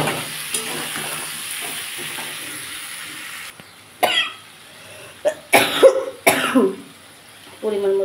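Ginger paste, cumin and chili powder being sautéed in a pan for shukto, with intermittent stirring scrapes and sizzling bursts in the second half and a cough or throat-clear near the start.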